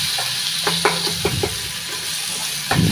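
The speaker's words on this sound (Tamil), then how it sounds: "அதுக்கப்புறமா வெட்டி வச்ச தக்காளி சேர்த்துக்கலாம். இதெல்லாம் சேர்த்து நல்லா கலந்துக்கலாம்." Ginger-garlic paste and chopped tomatoes fry in a pan for Chennai-style vada curry. A steady close sizzle runs throughout, broken by several sharp scraping strokes of a spoon stirring.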